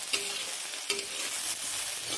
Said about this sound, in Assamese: শুকান মাছৰ চাটনি এনেকৈ অলপ ভাজি লৈছোঁ, আদা, নহৰু, কেঁচা জলকীয়া দি